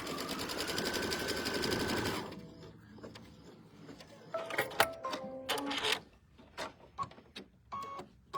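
A sewing machine stitching a trimming seam on a quilt block, a close, steady whirring run for about two seconds, followed by quieter handling noises and short clicks and thumps.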